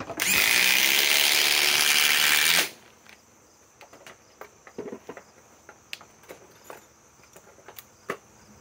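A DEWALT DCF845 impact driver on a 5 amp battery runs in one loud, continuous high-pitched burst of about three seconds, then stops, leaving quiet handling clicks.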